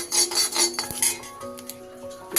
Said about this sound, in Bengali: শুকনো খোলায় এটাকে আমি একটু নেড়ে নেব